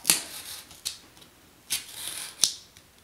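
Scissors cut out a marked paper template for a sculpted boot cake, with several crisp, close snips at uneven intervals and a soft papery rustle between them.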